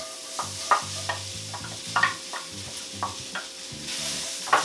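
Minced onions hit a hot wok and are kept moving, with a spatula clacking and scraping in a quick, uneven rhythm over a constant close sizzle.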